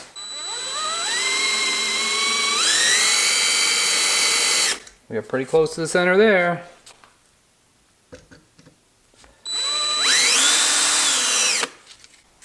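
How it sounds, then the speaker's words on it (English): Power drill boring through thick metal during work on a car, loud whining bursts with the motor pitch rising as it bites, a pause with talk in between, then another drilling burst. "We also have to find out where the drill bits went."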